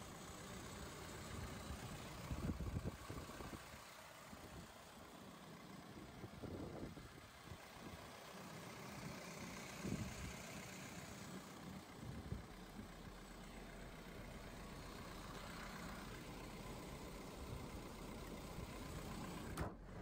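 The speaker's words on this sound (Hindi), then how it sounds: "2600 सीसी डीजल इंजन है ये" A Force Urbania van's Mercedes-derived 2.6-litre FM 2.6 CR diesel engine idles with a steady low rumble that continues alone throughout, with a few louder bumps early on.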